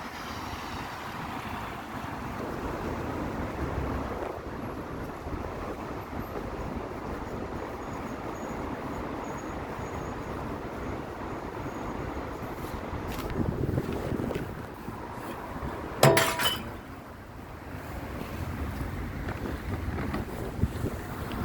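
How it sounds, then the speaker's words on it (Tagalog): Strong wind in Germany roars steadily against the microphone, with a sharp gust and clatter near the end. "Grabe ang hangin."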